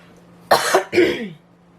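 Two quick, close coughs in a row from sewing dust, fairly loud, over a faint steady low hum, then quiet.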